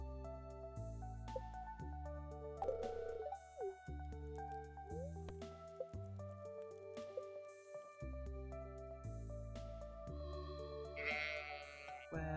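Sheep bleating in the farming video game Stardew Valley, short calls sounding over steady, continuous game background music.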